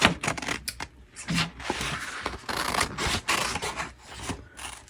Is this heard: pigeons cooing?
no